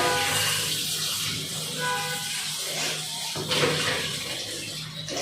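Tap water runs steadily as lentils (dal) are washed in a kitchen, a close, continuous splashing rush with a brief surge near the end.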